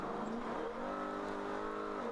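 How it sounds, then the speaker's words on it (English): Race car in the ChampCar Endurance Series at Daytona Beach accelerating hard out of the bus stop chicane, engine note climbing steadily and loud from onboard throughout, with a brief dip before the throttle is fully committed. "You can hear him getting on the gas early."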